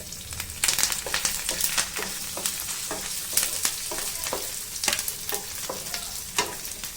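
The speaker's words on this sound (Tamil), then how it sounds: "ரெண்டு கருவேப்பிலை கொஞ்சம் போடுங்க." Curry leaves crackling in hot oil for sago upma: a bright, continuous sizzle broken by sharp spattering pops and stirring scrapes, close and fairly loud, with no talking.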